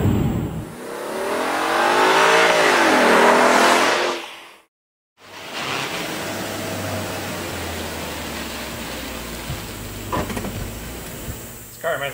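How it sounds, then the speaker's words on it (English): Volkswagen Phaeton V8 engine revved up, a loud rising and falling rev for several seconds before cutting off, followed by quieter idle and road noise with someone talking over it. "Listen to that V8 roar."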